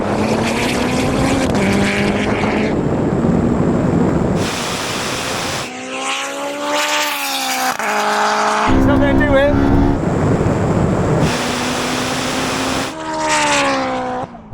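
A Honda AWD and a Porsche 918 Spyder drag race, with loud engine roars rising in pitch through several gear changes, cut by abrupt breaks and tire noise, while people talk over parts of it.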